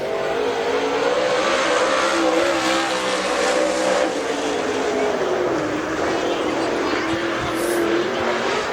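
A Super Late Model race car engine drones at high revs as it circles Dixie Speedway during qualifying, its pitch sliding slowly up and down, with a distant announcer-like voice underneath.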